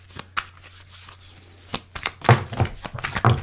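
Tarot cards are being shuffled by hand in a series of soft, papery riffles and taps. They start sparse and quiet, then grow busier and louder toward the end, close-up with no talk.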